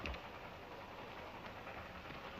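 A train in an old Hollywood western gives a steady, rushing rumble with a low clattering undertone, continuous and moderately loud with no voices.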